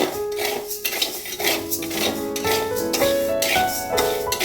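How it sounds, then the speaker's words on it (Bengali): A metal spoon scrapes and clinks steadily against a pan as dry mung dal is stirred and roasted, with a tonal musical background running underneath. "ভালো করে একটু ভেজে নেব।"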